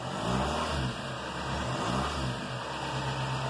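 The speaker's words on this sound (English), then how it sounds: "when I hit the gas" A Gen 1 Chevrolet Cruze diesel with a delete and off-road tune revs in a couple of swelling rises and falls. The rough, droning engine note sits close and fairly loud throughout.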